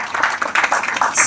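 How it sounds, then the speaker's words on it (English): A crowd at an Armenian Genocide commemoration applauds a visiting military commander. The clapping is brief, bright and dense, a close burst of many hands lasting just over a second with a little speech mixed in. "A round of applause, please."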